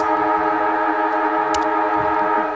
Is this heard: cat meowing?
no